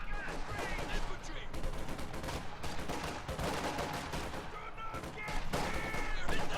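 Rifle gunfire in the Company of Heroes 2 strategy game, a dense continuous fusillade of overlapping shots and bursts from rifle squads, loud and sustained throughout with a commentator talking over it.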